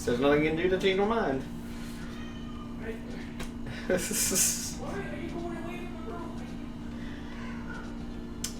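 Two domestic cats fighting indoors, with yowls and hisses at the start and again midway, while a person talks over game music throughout.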